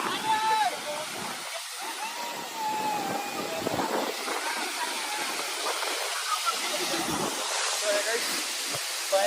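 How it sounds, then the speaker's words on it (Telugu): The Tarabu waterfalls roar as a steady broadband rush of falling water, heard close and continuous, with voices talking over it. "తరపు వాటర్ ఫాల్స్."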